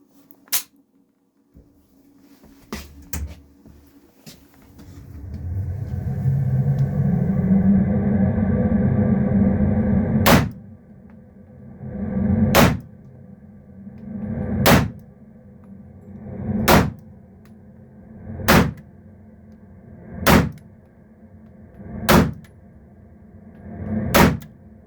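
Kimber KDS9c compact 9mm pistol firing Magtech ammunition, a series of sharp, loud gunshots spaced evenly about two seconds apart after an earlier stretch of handling noise and a low rumble.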